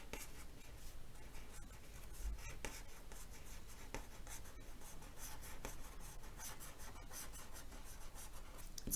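A pen or pencil writes a word across a sheet of paper, a faint, close scratching that runs continuously with brief pauses between strokes.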